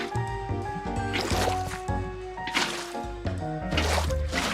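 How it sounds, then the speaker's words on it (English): Liquid splashes and drips as a bucket of water is placed in Minecraft, several short watery bursts layered over background game music. "now I just need to add some water in between these"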